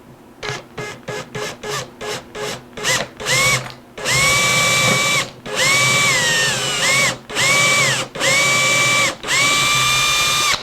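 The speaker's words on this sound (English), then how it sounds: "I'm going to just drill 2 of these pinholes as my locators" A power drill bores locator pinholes in a Martin 00 style acoustic guitar, starting with a run of short quick trigger bursts, then longer whining spurts, each several seconds long, loud and close, with no talk.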